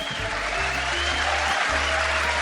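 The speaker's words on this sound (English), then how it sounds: "Give him a round of applause" Round of applause from an audience welcoming a presenter, a steady dense wash of clapping that holds evenly from start to end with no voices over it.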